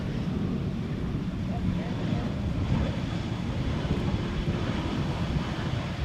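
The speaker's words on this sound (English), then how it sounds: "This is Air France, not Atlas Air, A321, arriving from Paris." An Air France A321 airliner arriving from Paris at Amsterdam Schiphol, its steady loud engine roar mixed with gusty wind rumble on the microphone.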